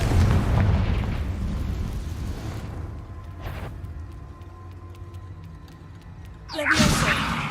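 A Confringo blasting spell explodes in Hogwarts Legacy, a loud rumbling boom opening the moment and decaying into a low drone, followed later by a sharp burst and fizzing crackle.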